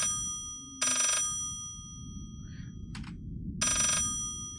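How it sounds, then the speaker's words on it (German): A telephone rings in the horror video game Layers of Fear, two loud bursts of an old-style bell a few seconds apart over a low, rumbling ambient drone. "Boah, dieses Telefon."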